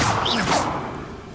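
Incendio fire spell cast in Hogwarts Legacy, a quick airy whoosh with a soft burst, brief and close, fading out within about a second.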